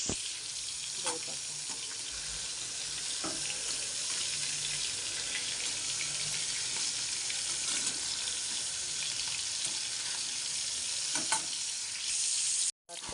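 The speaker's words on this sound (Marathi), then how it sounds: "थोडं डीप फ्राय व्हायला लागलं थोडंसं गोल्डन कलर आलं" Paneer pieces deep frying in hot oil for a paneer masala dish, giving a steady, dense sizzle throughout with a few brief crackles and spits, close and loud, with no talking.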